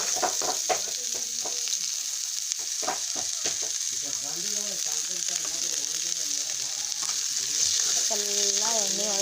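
Onions frying in oil in a pan sizzle steadily and close by, with a run of sharp spatula scrapes and taps at the start and a voice speaking briefly over the cooking later on.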